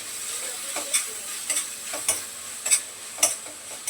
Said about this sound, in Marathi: थोडासा गोळ टाकला मी मिक्स करून घेते